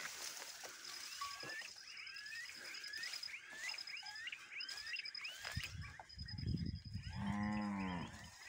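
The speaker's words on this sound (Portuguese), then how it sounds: "Os bezerros berrando para todo canto aqui" Calves and cattle bawl and moo over and over outdoors while a cow that has just calved is being searched for; a loud, close, deep moo swells near the end, with birds chirping faintly throughout.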